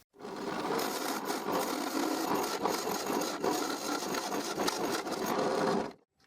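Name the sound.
drilling a hole in a treated wooden post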